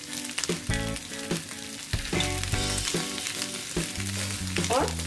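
Sabji made for fasting sizzles and fries in a pan, a steady crackling hiss with occasional stirring scrapes, close and uninterrupted by talk.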